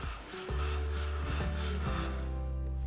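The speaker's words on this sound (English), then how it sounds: "this stuff is like sandpaper. It's gonna grind and grind on the inside of that scope ring" Steady, continuous rough grinding as lapping compound is worked inside steel scope rings with a lapping tool, a close, even rasping rub with low hum throughout.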